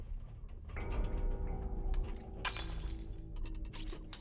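Glass shatters in the Corpse Party horror video game, a sustained crash of breaking and tinkling shards lasting a few seconds over a low background hum, fairly loud and alone.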